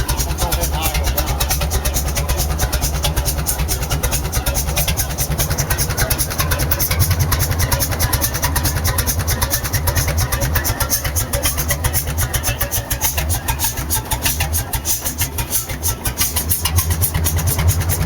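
An antique engine idles with a steady rapid chugging pulse, loud and close throughout, its rhythm holding even with little change in speed.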